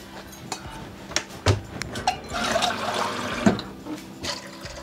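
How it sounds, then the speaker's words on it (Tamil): Water pours and splashes into a cooking pot of chana dal with cumin, turmeric and salt, in irregular gushes and clinks of the pot, close and moderately loud, with no talking. "2 கப் தண்ணி விட்டுட்டு"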